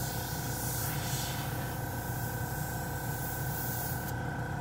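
Harbor Freight Avanti airbrush with a 0.3 nozzle spraying paint, a steady close hiss of air and spray running without a break, with no talking over it.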